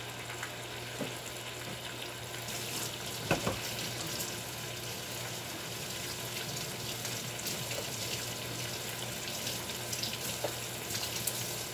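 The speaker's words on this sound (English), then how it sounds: "I gotta wash my tongs." A kitchen water tap runs steadily while cooking tongs are washed, a continuous rushing hiss with small clinks, close by, and no talk, during preparation of beef short ribs.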